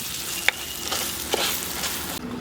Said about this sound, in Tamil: இதை அப்படியே எண்ணெயிலே நல்லா ஃப்ரை பண்ணிக்கிடுவோம்